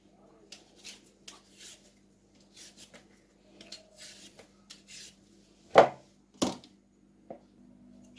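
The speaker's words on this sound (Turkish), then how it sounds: "Şimdi 3 tane büyük patatesimi bu şekilde soyuyorum" Large potatoes being peeled by hand, giving soft intermittent scraping and rubbing strokes with a couple of louder knocks near the end, close and fairly quiet over a low steady hum.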